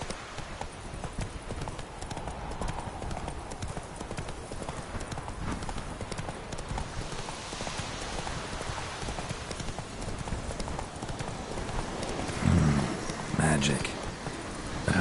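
A horse gallops in The Witcher 3 on PS4, with fast, steady hoofbeat clip-clops running throughout at moderate loudness. Other game sounds stir in the background, and a short burst toward the end stands out.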